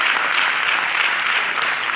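Steady, dense applause from an audience at a felicitation event in an auditorium, continuous and fairly loud throughout with no break.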